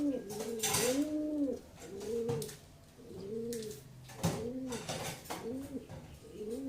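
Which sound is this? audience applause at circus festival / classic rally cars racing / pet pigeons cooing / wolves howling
pet pigeons cooing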